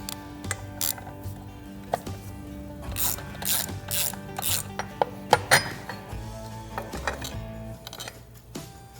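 A ratchet wrench clicks rapidly in short bursts while loosening a 3/4 inch nut on a Harley-Davidson Sportster engine during cam work, with metallic ratcheting close by and small clinks between strokes.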